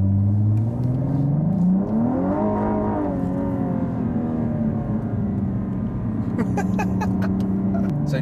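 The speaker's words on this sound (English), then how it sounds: "The acceleration of this car is about to be tested." Supercar accelerating hard, engine note climbing steeply through the revs with a shift, then holding a loud sustained drone close by, with brief clicks and a hint of talk near the end.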